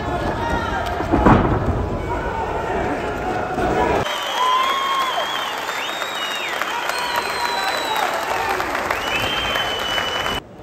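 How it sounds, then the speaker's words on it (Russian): Spectators at a wrestling match in an arena give loud, sustained applause and cheering, a dense roar of clapping with voices mixed in throughout. "Каждое удачное действие любимых борцов зрители приветствуют бурными овациями."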